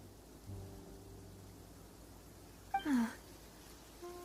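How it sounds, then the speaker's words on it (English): Rain falls in Genshin Impact as a soft, steady hiss, heard faintly and far off. A brief, louder rumble cuts in near the end. "It's raining."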